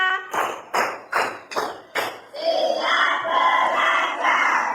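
A group claps five quick, evenly spaced beats in a classroom clapping game, then breaks into loud collective cheering and shouting, close and energetic.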